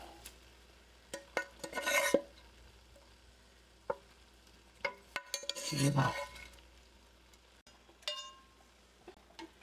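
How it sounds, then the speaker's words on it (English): Cooked home-canned beef spooned from a pan into a soup pot with a slotted spoon, giving scattered scrapes, taps and clinks of metal with two longer wet, sizzling scoops, close and fairly quiet. "we're going to add our beef into our pot. And I'm using a slotted spoon to drain off whatever juices are in the pan"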